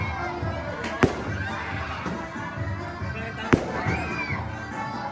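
Two sharp firework bangs ring out a few seconds apart over a murmuring outdoor crowd at a San Roque feast procession in Hagonoy, Bulacan, with a faint whistle trailing after the second.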